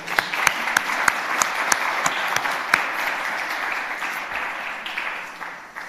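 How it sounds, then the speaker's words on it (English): An audience at a stakeholders event applauds loudly, with dense clapping and a few sharp individual claps standing out before it tapers off near the end. "big applause once again"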